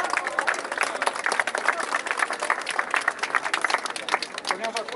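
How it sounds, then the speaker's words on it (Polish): An audience at an outdoor civic gathering in Bielsko-Biała breaks into loud, sustained applause, dense clapping rising and falling steadily throughout without pause. "Brawa!"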